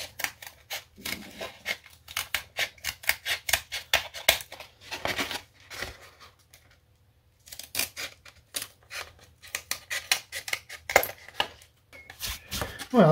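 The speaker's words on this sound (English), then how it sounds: "Sometimes these little nail scissors are worth their weight in gold" Small nail scissors snip through stiff material for a model boat's lower shroud, bursts of quick close crisp clicks separated by short pauses, with no talk.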